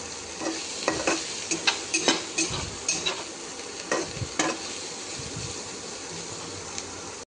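Prawns frying in a pan with red chili powder: a steady close sizzle runs throughout, broken by several sharp spatula scrapes and stirs clustered in the first half, with no talking.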